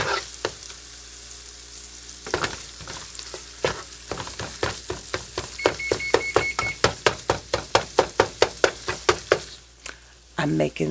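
Food frying in a pan as the base for biscuit gravy, a steady sizzle broken by a run of sharp, regular clinks and scrapes of a utensil stirring against the pan.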